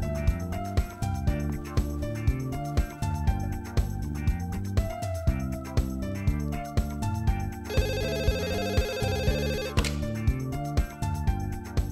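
A phone rings again and again during a call in a Pashto drama scene, repeated tonal ringtone bursts in a steady rhythm. A brighter, denser electronic trill joins partway through, and nobody speaks.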